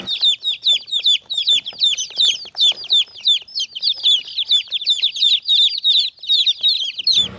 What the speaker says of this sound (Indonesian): Wah, ini ada anak ayam besar sekali ini.